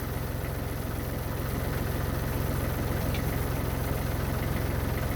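A tractor engine idles steadily nearby, a continuous low, even rumble with a faint mechanical knock running through the whole stretch and no voices.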